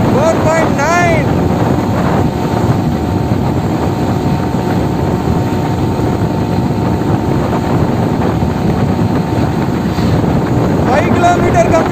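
A TVS Suzuki Max 100 motorcycle fitted with an RX 100 silencer runs on the road, its engine giving a steady, loud drone mixed with heavy wind noise and occasional speech.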